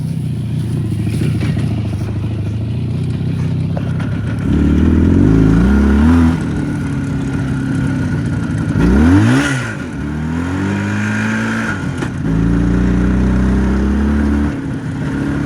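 A motorcycle engine close by, revving up and shifting through gears in several rising surges, loud and continuous with rattling mechanical clatter.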